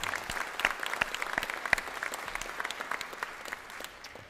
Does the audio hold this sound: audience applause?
yes